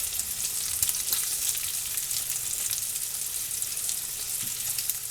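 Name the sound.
sausage patties frying in a pan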